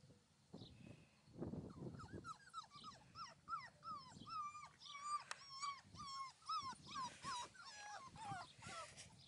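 Young puppies from an all-male litter whimpering and yipping in rapid high-pitched cries, close and continuous, with a few soft grunts at the start.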